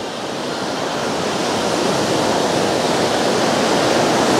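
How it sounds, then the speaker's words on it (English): Strong waves breaking on Lake Winnipeg at Patricia Beach in Manitoba, Canada, a loud continuous wash of surf that swells slightly, with no voices. "Very strong waves."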